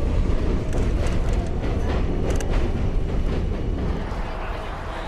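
A New York subway train running toward southern Manhattan, a loud continuous rumble with rattling car noise and brief higher squeals, steady then easing slightly toward the end.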